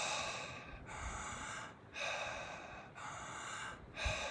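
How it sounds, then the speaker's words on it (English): Dragon's breath qigong breathing repeats in strong, forceful cycles. Loud, close, airy inhales and exhales alternate in a steady rhythm of about four breaths with no talking. "we'll just do it 7 times and really emphasize the inhale and the exhale here. I call this dragon's breath"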